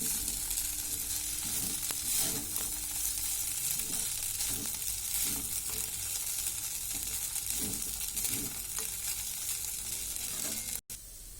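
Flattened rice cooking in ghee on low heat gives a soft, steady sizzle with light, regular stirring scrapes, quiet and close throughout, with no talking.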